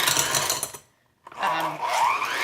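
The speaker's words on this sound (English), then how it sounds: "blend it up just a little. I don't think my mixer's on there right." An electric hand mixer blends a softened 8-ounce block of cream cheese, whirring loudly, cutting out briefly to near silence, then starting again with a steady buzzing drone.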